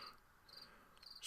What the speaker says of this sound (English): boy, that cricket's loud.